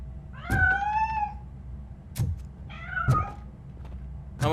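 A cat in the RoboCop: Rogue City video game meows in several clear, drawn-out cries with short pauses and soft thuds between them, fairly close over a low background hum.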